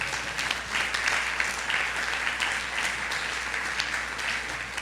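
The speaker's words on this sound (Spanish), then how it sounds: "¿Cuántos le dan un aplauso al Señor?" Church congregation applauding during a Sunday service, a steady crowd clapping for about five seconds at moderate level with a low hum underneath and no speech.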